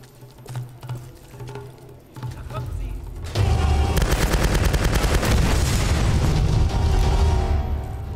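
A grenade blast in Tomb Raider erupts as a sudden loud boom after scattered shots, then rolls into a long, heavy rumble mixed with crackling gunfire, with a voice speaking over the action.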